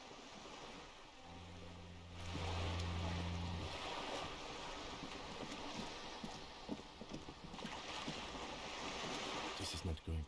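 Water rushing and washing along in a video game, a steady broad wash that swells louder early and continues with splashy textures, accompanied by a low tonal hum at the start.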